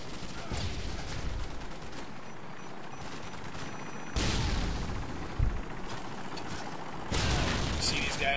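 Rapid gunfire bursts and grenade blasts from the video game Modern Warfare 2, dense overlapping shots with sharp louder explosions around four and seven seconds, all continuous and fairly close without clear talk.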